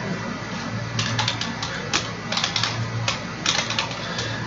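Someone types a number on a computer keyboard while working in a Google spreadsheet, a quick scatter of light clicky keystrokes in small clusters over a low steady hum, close up and without talk.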